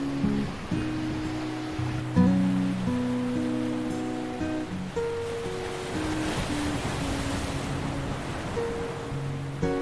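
Ocean surf washes below a hilltop at Diu, a steady broad rush of waves heard under a tonal musical backing.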